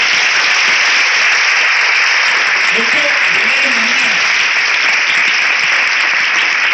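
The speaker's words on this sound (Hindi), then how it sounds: "तो एक जोरदार ताली अपने लिए होना चाहिए" Listeners at a corporate sales training seminar clap loudly and without a break. The sound is harsh and compressed, and a voice briefly comes through partway in.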